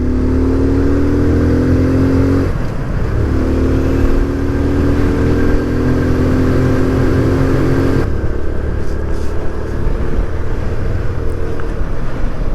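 A 2024 Kawasaki Z125 motorcycle ridden during break-in, its small engine revving steadily with rising and falling pitch at varied RPM, loud and close over constant wind and road rush.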